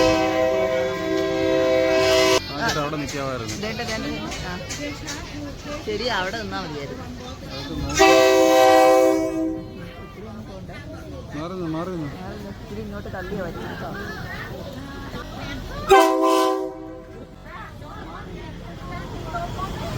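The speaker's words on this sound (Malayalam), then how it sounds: "അങ്ങനെ സൈറൻ മുഴക്കിക്കൊണ്ട് ട്രെയിൻ വരുന്നുണ്ട്." A train sounds its horn in repeated long blasts as it arrives at Maeklong Railway Market in Thailand. Crowd noise, rolling rail sounds and someone talking run throughout.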